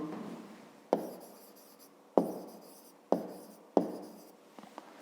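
A pen or pencil writes a digit by hand in a fifth-grade maths exercise, making close, distinct scratching strokes, four main taps and scrapes each fading out, with no speech.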